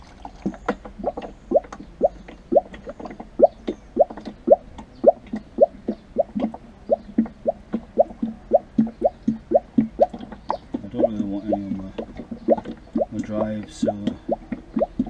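Used engine oil from a Triumph Daytona T595 motorcycle oil change pours into an old washing tub, making a steady run of glugging plops and drips in a regular rhythm, with a gurgling stretch near the end.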